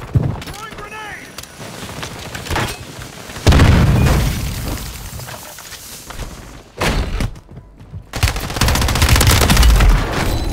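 Grenade explosions and rapid gunfire in Call of Duty: Warzone on the Fortune's Keep map, with loud booms and bursts of automatic fire throughout, overlapping game voice callouts.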